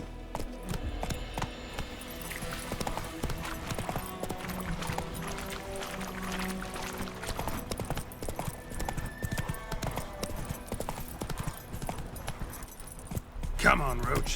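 Geralt's horse Roach galloping in The Witcher 3, rapid rhythmic hoofbeats with jangling tack, close and steady, with voices talking over them and a short whinny near the end.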